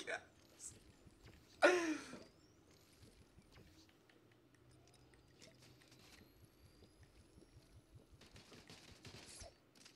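Gunfire in Fortnite Season 6: a sharp, loud burst of shots early on, then quieter scattered game sounds, with players talking over it.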